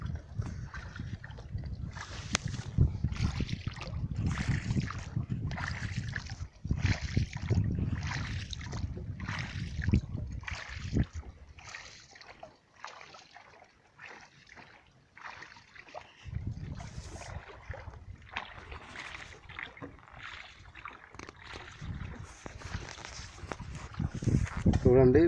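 A small wooden boat moves on open water, with rhythmic paddling or sloshing strokes and wind rumbling against the microphone, while someone talks over it throughout.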